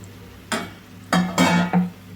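A spoon turns mango pulihora seasoning through cooked rice in a pot, four distinct scraping, sliding strokes in an uneven rhythm, close up and fairly loud against a quiet background.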